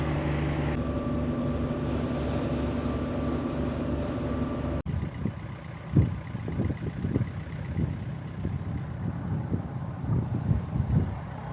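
A car ferry crossing in Scotland, with steady low engine drone and hull noise giving way after a sharp break to gusty wind buffeting the microphone in irregular bursts.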